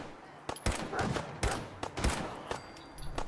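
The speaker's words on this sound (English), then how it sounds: "Take pot shots at these guys." Gunfire in the video game Fallout 4: several loud close shots and short bursts crack in quick succession, with someone speaking between them.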